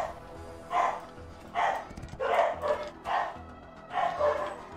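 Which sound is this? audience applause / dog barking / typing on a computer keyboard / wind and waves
dog barking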